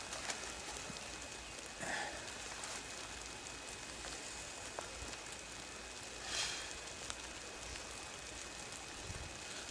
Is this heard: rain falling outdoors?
yes